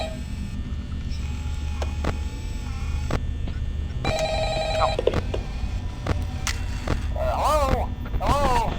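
An in-game telephone rings in Five Nights at Freddy's, a bright electronic bell burst under clicks, thumps and a steady hum, with chirpy sweeping tones near the end.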